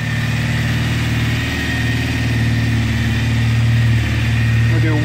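A Triumph Thruxton motorcycle engine running at fast idle, a steady, loud, close burbling throb with a constant even pulse throughout.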